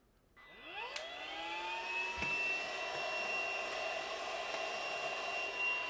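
A Kissair cordless handheld vacuum cleaner spins up with a rising whine and then runs at a steady high-pitched whir, close and alone.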